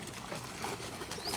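Pigeons in a town square in Roi Et, Thailand, with brief coos and wing flutters over a busy, noisy outdoor background.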